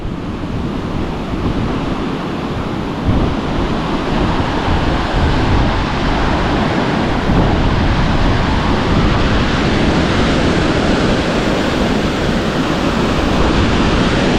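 Rushing river water below the Bluestone Dam during a water release on the New River, a dense, constant roar of churning flow, loud and unbroken with no voices.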